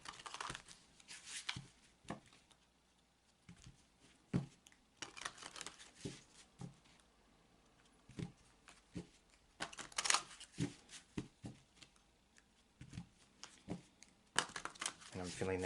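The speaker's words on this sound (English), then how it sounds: "shuffling that intention into the cards." Tarot cards riffled and shuffled in repeated bursts, with crisp flapping and tapping sounds close by, separated by brief pauses.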